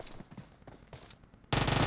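Gunfire in the video game PUBG Mobile: several distant, spaced shots crack out, then a sudden loud, close burst of rapid automatic fire takes over.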